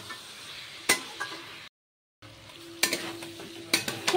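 Jackfruit pickle cooking in a pan, stirred with a utensil that scrapes and clinks against the metal over a steady low sizzle, with a short silent gap midway.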